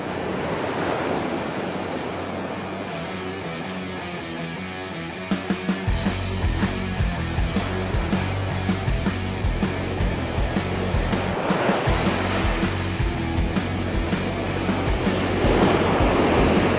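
Waves break on a beach in close, loud surges of foamy rushing water, with one quieter stretch and then heavy crashing repeating every few seconds, buffeted by wind noise on the microphone.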